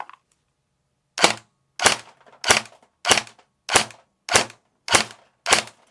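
A CYMA SR25 (REC10) airsoft rifle loaded with 0.32 g BBs fires eight evenly spaced single shots into a chronograph, each a sharp, loud crack about two-thirds of a second apart after a short silence.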